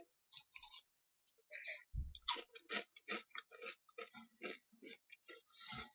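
Dry Shreddies cereal chewed close to the mouth with no milk, giving crisp, crunchy bites in irregular bursts with short pauses between them.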